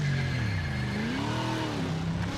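A race car engine in the video game Project Motor Racing, a steady sustained drone with pitch sweeping slowly up and down as it revs, moderately loud and alone for a couple of seconds.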